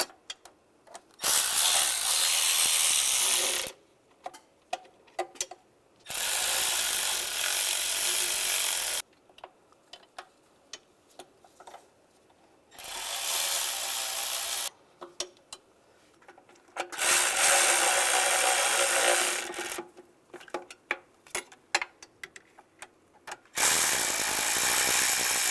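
A ratchet snugs the intake manifold bolts on a 2007-2013 Chevrolet Silverado 1500 in several separate bursts of quick clicking, close and clear, with short pauses between them.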